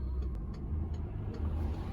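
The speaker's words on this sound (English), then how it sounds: "Okay, I'm just gonna wait for this car." A car passes along a road nearby, its low, rumbling engine steady throughout with no talking.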